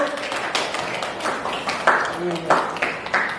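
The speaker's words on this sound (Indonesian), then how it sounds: "Beri tepuk tangan dulu dong untuk kelompok 1." Scattered clapping from a class group applauding fellow students after a presentation, light and uneven under steady talk.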